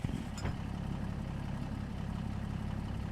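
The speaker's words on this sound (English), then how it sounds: "Engine on." A truck engine idling in Farming Simulator 25, a steady low rumble heard from inside the cab, with a brief clatter near the start and then an even, continuous drone, no voices.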